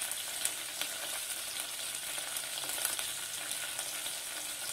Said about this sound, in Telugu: ఒక 2 మినిట్స్ ఫ్రై చేసుకుంటే సరిపోతుంది. ఇవి ఈ విధంగా ఫ్రై అయినప్పుడు